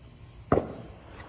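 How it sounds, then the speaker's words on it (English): A single sharp firework bang pops outdoors near a planting of chestnut and English white oak seedlings, one short crack with a brief decaying tail, standing out alone against quiet background noise. "Fireworks going off."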